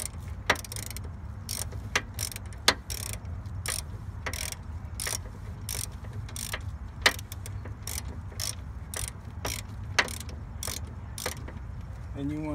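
A ratchet turns the bolts of a spring compressor during a BDS suspension lift spring installation, giving a series of sharp, close clicks in uneven bursts over a low mechanical hum, with no talk.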